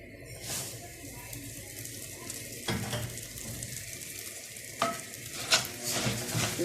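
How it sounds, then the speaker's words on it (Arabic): Rice turned and stirred in a hot pan, a steady sizzle with scraping utensil strokes and a few sharper knocks, close and moderately loud with no talking. "نقلبهم بس 5 دقايق كده."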